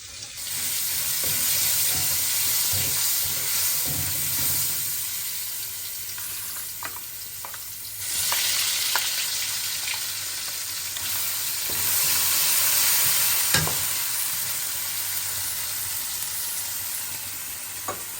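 Garlic, cumin and spices sizzle in hot oil in a pan, a steady loud frying hiss broken by scraping stirs, with brief lulls and clinks of the spoon.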